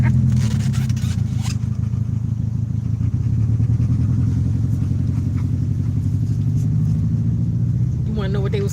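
A car pulls up close with a deep, rumbling engine and an uneven exhaust note, loud and steady throughout, while people talk over it.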